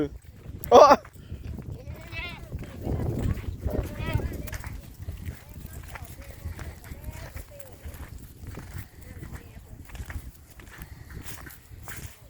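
Goats grazing on grass in the sun on a cold day let out a few short bleats, one sharp cry near the start and softer calls later, among rustling and footsteps while a person talks.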